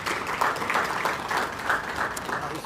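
Audience applause at a lecture as a guest is introduced, a steady, fairly soft wash of clapping from a roomful of people, continuous through the clip with no voices rising above it.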